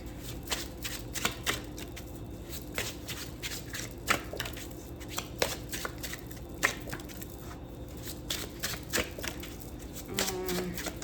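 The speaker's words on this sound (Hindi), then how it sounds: "अचानक से 3-4 कार्ड उड़ गए थे, इसलिए मैं रिशफल कर रही हूँ।" A deck of tarot cards is reshuffled by hand, giving a rapid run of crisp riffling flicks and soft card slaps, close and fairly quiet.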